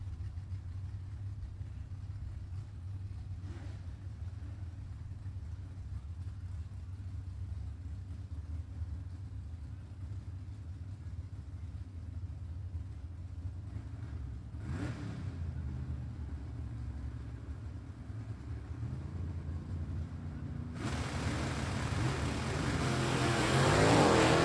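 Drag race cars, a Firebird against a Chevy II, at a stick shift shootout. A distant engine rumble holds steady for a long stretch, then swells into a louder roar of launching engines near the end.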